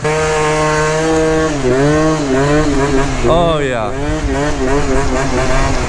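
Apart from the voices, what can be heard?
stunt scooter engine revving, Stage 6 spring setup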